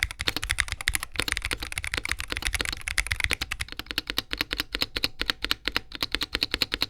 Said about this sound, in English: The spacebar on my retail copy has quite a bit of rattle